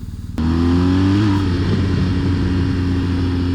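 A 2021 BMW R1250 GS Adventure motorcycle in dynamic mode pulls away hard, its engine note jumping up after a brief idle and holding a steady, close drone as traction control intervenes.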